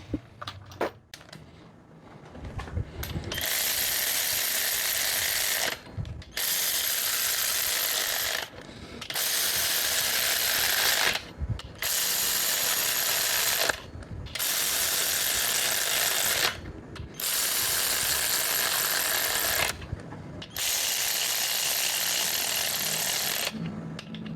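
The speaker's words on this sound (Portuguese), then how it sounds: "por mais mínimo que seja a travada que ele der aqui no parafuso, ele já vai estralar e emitir o torque" Repeated ratcheting clicks from a torque wrench tightening bolts during assembly of a Volkswagen Parati 2.0 AP engine, coming in steady bursts of about two seconds with short pauses between them, close and loud, with no talking.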